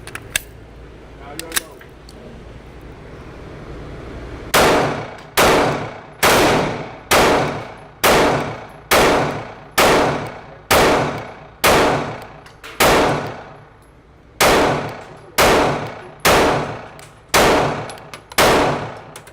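A Glock 43X pistol fires a full 15-round magazine: after a quiet lead-in, fifteen loud, sharp shots ring out in a steady, evenly paced string, each cracking close and decaying quickly before the next.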